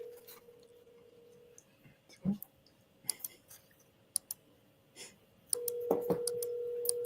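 Telephone dialing for lead calls: scattered sharp clicks and brief tone blips, then a steady loud tone that holds to the end.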